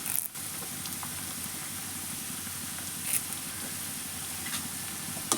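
Cauliflower 65 and curry leaves frying in hot oil, a steady hiss and crackle with faint occasional pops, continuous at moderate level and heard alone.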